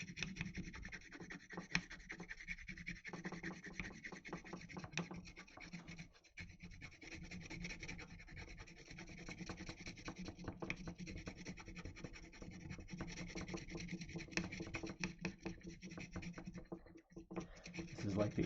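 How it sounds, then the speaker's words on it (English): An ink stick is ground against an inkstone to make ink, a close, continuous gritty rubbing and scraping with a steady back-and-forth texture that lasts throughout. "So I'm just going to grind off some of this ink."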